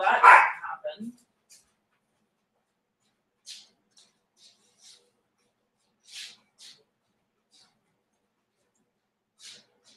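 Dogs barking indoors at a home during a live craft presentation, a loud burst of several sharp barks at the start, then only faint scattered noises and quiet gaps.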